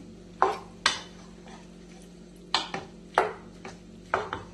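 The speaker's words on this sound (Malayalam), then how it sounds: "അതൊന്നെല്ലാം നല്ലോണം ഒന്ന് ഇളക്കി കൊടുക്കാം." Mango pickle mixture is stirred with a spoon, making six or so close, sharp scrapes and clacks against the container at an uneven rhythm over a faint hum.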